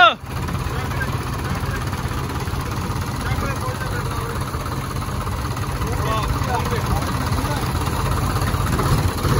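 Tractor engine idling, a Sonalika DI 55 or Farmtrac 60 at a tug-of-war match, a steady low rumbling drone with a rough texture, close and constant throughout.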